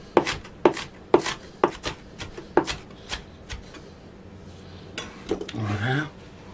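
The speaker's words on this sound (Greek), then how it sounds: "Ψιλοκόβουμε." A knife chops three fresh spring onions on a cutting board in a series of crisp, evenly spaced strikes, close by, then a brief scraping rub as the chopping stops.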